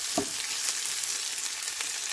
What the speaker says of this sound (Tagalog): Nagigisa po tayo ng sibuyas, saka bawang